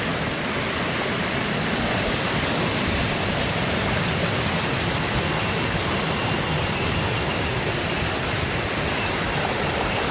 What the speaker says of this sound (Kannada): ನೋಡಿ ಹೆಂಗಿದೆ ಫಾಲ್ಸ್ ಇಲ್ಲಿ